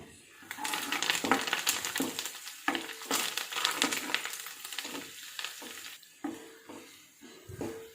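Curry leaves frying with garlic and ginger in oil for a sardine pickle give a loud, steady sizzle broken by stirring scrapes, easing briefly toward the end.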